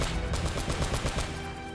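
Rapid bursts of gunfire in the video game Uncharted: Drake's Fortune, loud repeated shots in quick succession with no talking.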